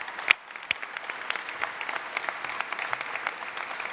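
Audience applause at a legislation signing event for affordable housing in San Francisco, a steady patter of clapping from a crowd that starts with a few sharp claps and carries on evenly at moderate distance.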